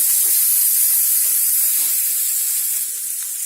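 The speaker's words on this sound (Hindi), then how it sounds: "अब हम इसमें शिमला मिर्ची और प्याज डाल के हल्के से सॉफ्ट होने तक" Capsicum and onion frying in a pan give a continuous bright hiss and sizzle, close and steady, with faint crackles underneath.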